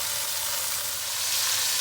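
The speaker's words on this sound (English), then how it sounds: "You have to brown both sides of the beef." Beef pieces browning in a hot pan for pot roast give a steady, close, bright sizzle that swells slightly toward the end, with no talking.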